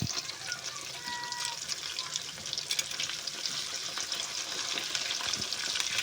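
Pork chop frying in a pan at home, a steady close hiss and crackle of hot oil running throughout with faint clinks and no talk.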